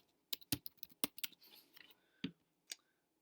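Fingers type on a computer keyboard in a quick, uneven run of soft clicks and taps, faint and close, with a short pause before a few final keystrokes.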